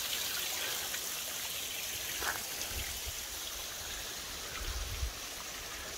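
Steady rushing and splashing of a small trail waterfall on the Appalachian Trail, a constant broadband wash of water with a few soft low thumps, no voices.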